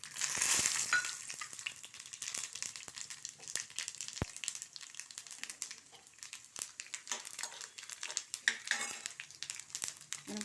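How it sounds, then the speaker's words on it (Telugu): Tempering spices, chana dal, urad dal, mustard seeds and butter, sizzle and crackle in a pan, with scattered sharp pops and clinks over a steady frying hiss. "ఇప్పుడు మనం పోపు వేద్దాం."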